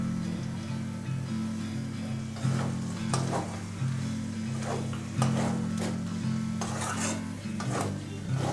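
Chicken with chopped coriander, tomato and green chili sautéing in mustard oil, a steady close sizzle broken by repeated scraping and stirring strokes in the pan.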